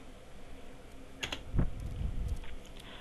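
Typing a search into Google on a computer keyboard, a short cluster of soft key clicks and a couple of duller thumps in a quiet room, no voices.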